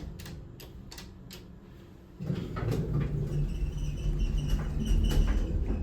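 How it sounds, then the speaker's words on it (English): Door of a modernized commercial hydraulic elevator in a university library, sliding with a sustained squeaky, grinding drone after a few faint clicks, steady and close, with no talking. "Squeaky door."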